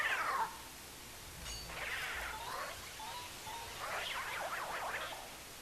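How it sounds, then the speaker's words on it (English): A faint, warbling hum from Luigi in the video game Luigi's Mansion, joined by eerie wavering ghost voices that rise and fall in pitch, quiet over a soft background hiss. "if you leave your light off, Luigi will start humming the song, and then if you wait long enough, you can hear the ghosts joining in"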